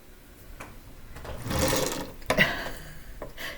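A home sewing machine starts up as a foot presses the pedal, giving a short whirring burst of stitching in the middle, followed by a few soft clicks and knocks, close and fairly quiet with no talking.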